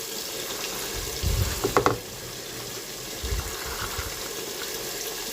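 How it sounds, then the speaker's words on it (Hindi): Cauliflower frying in hot oil in a pan, giving a steady sizzle throughout, with a few louder stirring or clattering bursts near the start and again in the middle. "ये थोड़ा तेल के अंदर पकेंगे, फिर जो है पानी डाल देंगे।"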